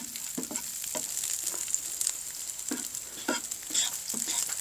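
Garlic frying in oil in a pan for bacon cream pasta, a steady close sizzle broken by soft scraping stirs at irregular intervals, with no talking.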